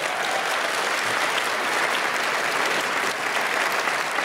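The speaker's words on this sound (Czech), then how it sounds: "A to si myslím, že zaslouží váš potlesk." Audience at a benefit concert gives a steady, full round of applause, dense even clapping from a large hall crowd with no voices standing out.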